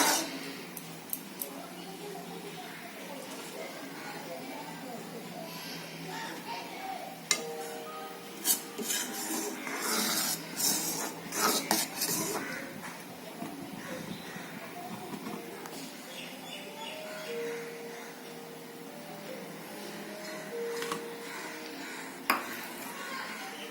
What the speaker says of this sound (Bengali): এটা অনবরত নেড়ে যেতে হবে, যেন নিচে লেগে যাওয়ার চান্স থাকে।